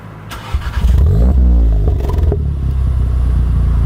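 A 500 hp Volkswagen Golf 7R engine revs hard and drops back with crackling exhaust pops, loud and close, no voices.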